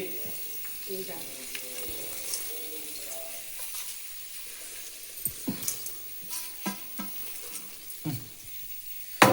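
Raisins and cashews fry in homemade ghee, a steady soft sizzle with scattered clinks and stirring scrapes of a spoon against the pan, growing busier toward the end.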